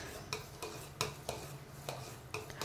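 A spoon scrapes around a large pot of milk heating for rabdi, about eight soft, rhythmic scraping strokes, quiet and close, with no talking.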